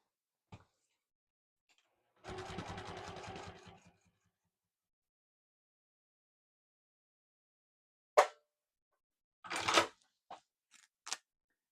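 A sewing machine stitches vinyl in a short whirring run of about two seconds, followed later by a few sharp knocks and brief mechanical clatters, all close and separated by silence.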